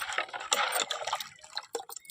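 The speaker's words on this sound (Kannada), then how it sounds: "ಈಗ ನಮ್ಗೆ ಎಷ್ಟು ಬೇಕಷ್ಟ ನೀರು ಹಾಕ್ಕೊಳ್ಳೋದು." Water pours into a cooking pot as a curry broth is prepared, a short splashing, trickling fill with a few dripping bursts, close and fairly soft.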